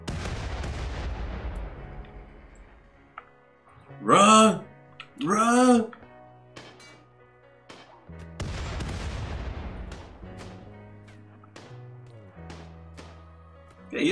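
RimWorld combat brings bursts of gunfire and grenade blasts, with sharp rattling volleys early and late and a pair of loud booming explosions in the middle, while a voice shouts briefly.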